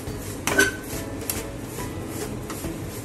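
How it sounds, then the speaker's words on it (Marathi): Besan being dry-roasted and stirred in a pan for rava besan ladoo, with a few scraping spatula strokes against the metal and light clinks over a soft, steady background. "आपलं बेसन पण भाजत आलंय।"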